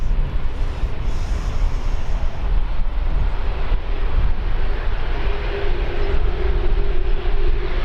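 An Emirates jet at Birmingham airport roars with a steady, loud broadband rumble and a faint tonal whine that builds over several seconds, heard at a moderate distance with no speech.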